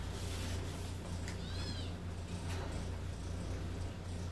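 A house cat meows once, a short rising-and-falling cry heard at a moderate distance over a constant low background hum, with no one speaking.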